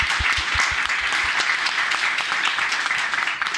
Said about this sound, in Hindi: दोनों हाथ खोल करके जबरदस्त ताली अपने लिए बजाएं